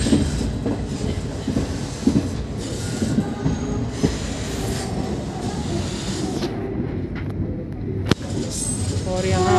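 A North Central Railway coach on the 04173 Mathura-Jaipur passenger train runs near Alwar Junction, giving a loud, continuous rumble with wheel squeal, rhythmic clatter and one sharp clank near the end.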